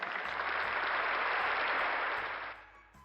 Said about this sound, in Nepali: आउनुहोस् दाजुभाइ तथा दिदीबहिनीहरू जोरदार तालीको साथमा उहाँलाई यतिखेर स्वागत गरौँ